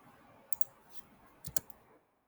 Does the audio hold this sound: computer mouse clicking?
yes